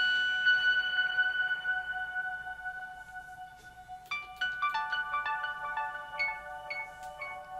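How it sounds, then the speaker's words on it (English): A Hologram Microcosm effect pedal rings out over sequenced synth notes from a Novation Remote SL Mk3 setup, giving sustained tones and then a burst of bright, shimmering, bell-like repeats that cascade and fade, fairly quiet, with no voices. "You can hear the hologram microcosm ringing out in the background."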